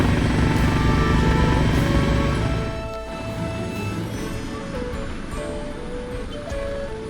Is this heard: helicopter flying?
yes